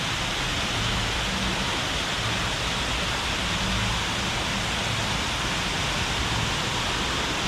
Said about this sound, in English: But we do have a very nice waterfall.